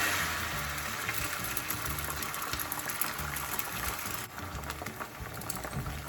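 Eggs hit a hot pan already holding garlic and shallots for fried rice, raising a dense, steady sizzle that hisses on without pause, close and fairly loud, with a brief dip near the end.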